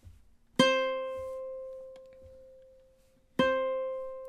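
Two plucked ukulele notes from measure 16 of the MASH theme ring out close and clear, one near the start and another about three seconds later, each decaying slowly, with faint breathy counting-like sounds between.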